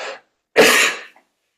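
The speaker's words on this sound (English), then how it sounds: "I'm gonna have a coughing fit here." A single loud, harsh cough burst from an adult man at close range, preceded by a brief fainter breath or throat sound, then silence.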